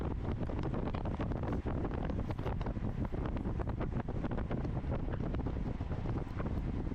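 Wind roars steadily over a microphone as cyclists ride into a headwind on a rolling-hills road route, a loud, continuous buffeting rush with no voices.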